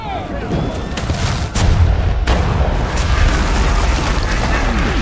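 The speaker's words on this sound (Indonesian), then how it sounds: "Kemudian sang sultan memerintahkan Panglima Zaganos memindahkan meriam ke Romali Hisala untuk menembak ke arah Konstantinopel." Heavy cannon blasts boom over a dense, continuous rumble of battle noise, loud and close, with a couple of sharp reports standing out, in a depiction of the Ottoman siege of Constantinople.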